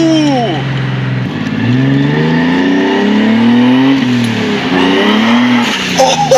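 A big-turbo BMW E36 engine revs hard several times, its pitch sweeping up and falling back in loud, close bursts with a rough, gnarly edge.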